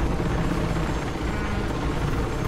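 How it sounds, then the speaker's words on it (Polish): A helicopter in the video game Mirror's Edge Catalyst gives a loud, steady, close whirring roar of rotor and engine that fills the whole stretch without pause, with no talk over it. "to znaczy na piechotę mam gonić helikopter"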